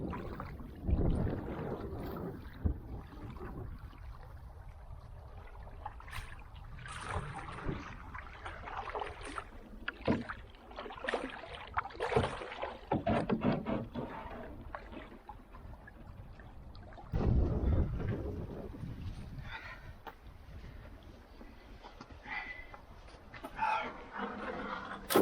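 Paddle strokes and water lapping from a solo canoe on a lake in spring, soft and close, with intermittent wind buffeting the microphone and a brief dog bark in the distance.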